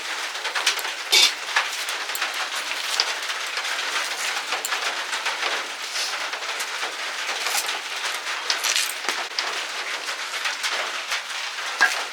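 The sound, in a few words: rain falling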